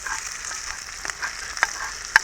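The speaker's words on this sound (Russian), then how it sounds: "Ой, блин, лук горит." Onions fry in a pan over a campfire, a soft steady sizzle with a few sharp pops and crackles standing out near the end, no voices.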